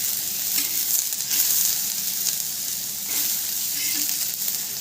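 Ridge gourd pieces fry in a pan with a loud, close, steady sizzle and hiss, and soft stirring scrapes surface now and then.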